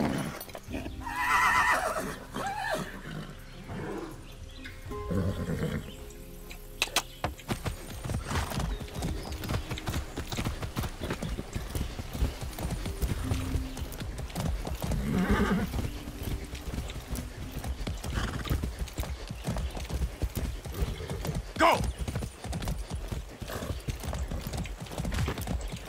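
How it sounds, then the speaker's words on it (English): A horse in the video game Far Cry 6 clip-clops in a steady galloping rhythm for a long stretch, with a couple of neighs and whinnies and some mechanical clicks along the way. "That's a good horse."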